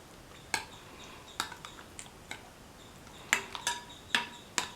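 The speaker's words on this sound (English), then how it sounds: "mix thoroughly" Curd, grated carrot and tomato being stirred in a bowl with a spoon, giving a series of sharp clinks and scrapes against the bowl in an irregular rhythm, close and fairly quiet with no talking.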